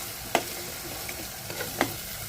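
Spices frying in oil over low heat for a Maharashtrian black-eyed pea usal: a soft continuous sizzle broken by two sharp spatula taps and light stirring scrapes.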